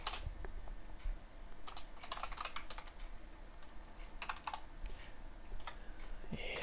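Quick bursts of typing on a computer keyboard while writing C++ code, clustered keystrokes with short pauses between, close and fairly soft over a low background hum.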